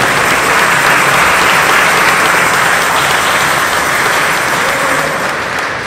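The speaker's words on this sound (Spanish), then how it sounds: "¡Fuertes palmas para ellos!" Loud, dense congregation applause during a baptism Mass, steady continuous clapping from many hands filling the church, fading slightly near the end.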